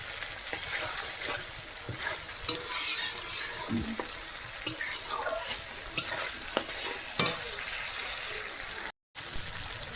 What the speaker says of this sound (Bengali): এখানে দেখো মশলাটা কিন্তু পুরো কষানো আমার হয়ে গেছে